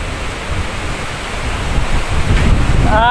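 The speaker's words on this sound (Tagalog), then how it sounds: "Grabe kusuga lang gyapon hangin." Strong super typhoon wind on Camotes Island roars in a continuous broadband rush, buffeting close to the microphone and building slightly louder toward the end.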